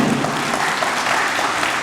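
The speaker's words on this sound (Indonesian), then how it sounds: "Boleh tepuk tangan itu." A steady wash of applause from an audience at a minister's address at UIN Ar-Raniry university, dense clapping that holds at an even level throughout without any voices on top.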